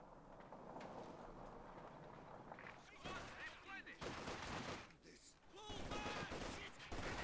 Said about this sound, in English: That's a rifle grenade.